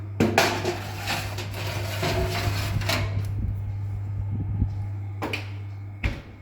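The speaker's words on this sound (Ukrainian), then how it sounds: "Духовка розігріта, ставимо крильця." Dishes and oven hardware clatter as a tray of chicken wings goes into a preheated home oven, with a couple of sharp metallic knocks and a steady low hum underneath.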